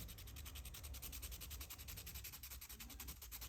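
Thick pencil graphite is rubbed back and forth on sandpaper to hone a fine tip, giving a faint, steady, rhythmic gritty scratching close by with no talking.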